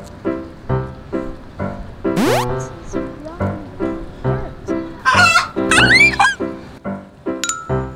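Soft, rhythmic cooing and clucking of pigeons nearby in London, with a few higher chirps and squeaks rising over the steady pulses.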